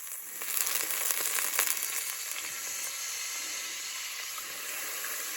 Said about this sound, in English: Now I'm going to deglaze that pan.